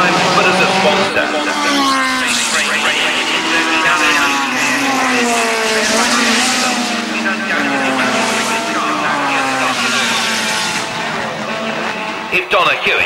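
Race cars on a warm-up lap before a grid start roar past with loud, shifting engine notes and some tyre squeal, while a person talks over the noise throughout.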